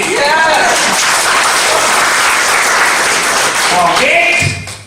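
A large audience at a sales training event clapping for themselves, a dense, loud wash of applause that ends abruptly, with raised voices calling out at the start and near the end.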